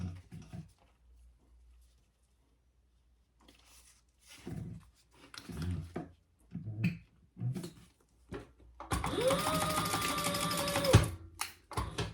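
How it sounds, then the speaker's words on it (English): A sewing machine stitches a zipper pouch seam in one steady whirring run of about two seconds near the end, after quiet handling sounds and brief pauses. "And then we're going to sew that on at the full seam allowance."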